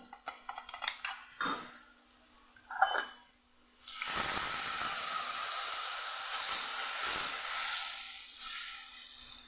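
Masala and garlic paste for chutney sizzle loudly in a pan as water is added, after a few seconds of clinking utensils and stirring, then a steady hiss continues.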